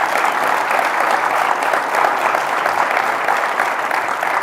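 Sustained applause from a large audience, steady and dense clapping at full volume throughout, with no voices standing out.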